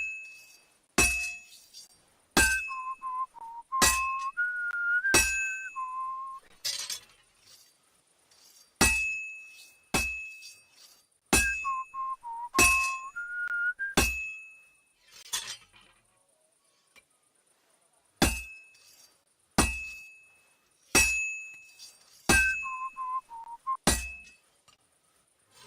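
Blacksmith's forge in Kingdom Come Deliverance 2, with sharp metallic hammer strikes ringing out in repeated bursts, alongside bright whistling tones that slide up and down between them, near and loud with quiet gaps.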